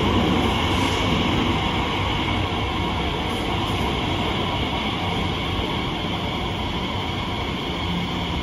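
Inside a long London Underground train bound for Heathrow, a steady, loud rumble and roar of wheels and motors fills the car, continuous and unchanging with no talk.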